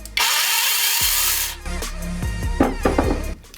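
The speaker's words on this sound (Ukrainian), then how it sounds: "пилка має плавний пуск і миттєву зупинку двигуна" A cordless Gramd electric chainsaw with soft start and instant motor stop whirs up to speed, runs briefly with a high buzzing whine, then stops abruptly, followed by clattering handling noises.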